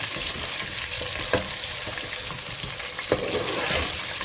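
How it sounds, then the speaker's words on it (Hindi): Potatoes and whole spices brown in hot oil in a pan for a chicken and potato korma. A loud, steady sizzle fills the clip, broken by occasional sharp stirring knocks. "हम आलूओं को ब्राउन कर लेते हैं।"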